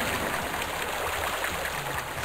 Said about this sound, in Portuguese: A cachoeira.